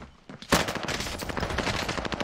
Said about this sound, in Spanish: Escuché los tiros, escucho la persona aquí arriba mío.